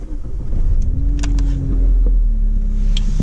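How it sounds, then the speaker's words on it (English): A manual-transmission car's engine cranks over and settles into a steady low idle, a continuous close rumble with no talking. "So let me turn the car on for that."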